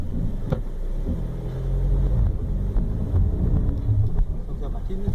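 A car's wheels slipping and spinning on slippery ground, with one wheel lifted fully off the surface; a steady low engine and tyre rumble rises midway and holds, while people talk over it.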